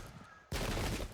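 Musket volleys crackle during a battle between Scottish Royalists and Parliamentarians in the Pike and Shot video game, a sudden burst of overlapping gunfire that erupts after a quiet moment and rolls on loudly for about half a second.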